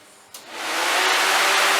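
Electric radiator fans on an FD RX-7 switch on with a click and spin up into a steady, loud broadband whoosh that keeps rising and then holds constant, with no talking.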